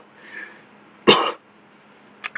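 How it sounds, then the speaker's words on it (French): A man coughs once, sharply and close, after drinking coffee, with a fainter throat-clearing cough following a moment later in an otherwise quiet room. "Je tousse un peu, mais c'est parce que je viens de boire du café."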